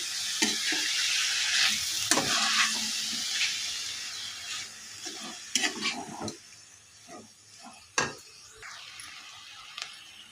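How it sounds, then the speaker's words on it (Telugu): Tomato thokku mixture being stirred in a pan, a low sizzling hiss beneath irregular scraping and clanking of a spoon against the pan, louder early on and quieter later, with an occasional sharp knock. "ఇవన్నీ కలిపి ఒకసారి కలుపుకోవాలి బాగా కలిసేలాగా కలుపుకోవాలి"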